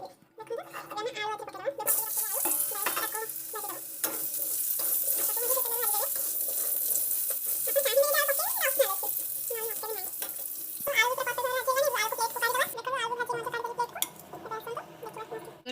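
Fish fries in hot oil with a loud, continuous close sizzle and hiss that runs through most of the stretch, while a person talks over it.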